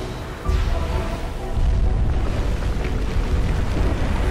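A big explosion in the video game Flower, a deep booming rumble that swells twice and then holds as a loud, sustained roar.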